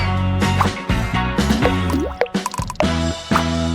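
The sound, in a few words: water poured into gelatin with dye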